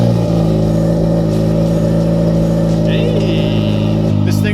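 A manual car with a rebuilt distributor, its engine droning loud and close as it pulls under acceleration, the tone holding fairly steady and then dropping at a gear change near the end.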